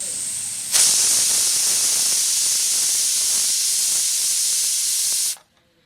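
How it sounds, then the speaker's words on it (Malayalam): A pressure cooker on the stove releases a loud, steady hiss of escaping steam for about five seconds, building toward a whistle, then cuts off abruptly into near silence; no one speaks. "നമ്മളെ കുക്കർ ഇങ്ങനെ വിസിൽ വരാനുള്ള ഒരു ടെൻഡൻസി കാണുന്നുണ്ട്"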